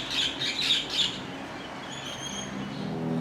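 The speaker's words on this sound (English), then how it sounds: "There's birds." Birds call at a quiet, peaceful Buddhist temple site with Buddha images, a few high chirping and squawking notes repeating in a short burst, then fainter calls over soft ambient background noise.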